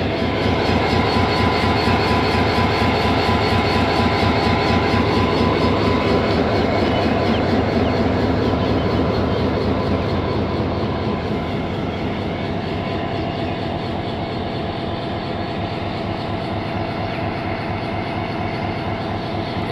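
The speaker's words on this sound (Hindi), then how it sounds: "ये 3000 हॉर्स पावर का जर्मन इंजन है।" A Pakistan Railways EMD HGMU30 3000-horsepower diesel locomotive runs steadily and loud up close, a dense continuous engine roar with rhythmic mechanical pulsing that eases slightly partway through, with no voices.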